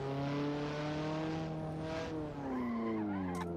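Car brakes lock up with tires squealing in the Assetto Corsa racing game during a gymkhana run, a loud sustained skid layered over a steady engine drone that dips briefly and resumes.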